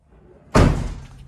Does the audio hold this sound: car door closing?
yes